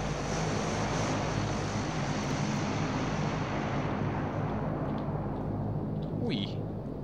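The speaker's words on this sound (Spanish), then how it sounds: "No sé los aviones esos que tiran." An airplane passing overhead in the battle royale game PUBG makes a loud, continuous roar that holds steady throughout and thins slightly toward the end.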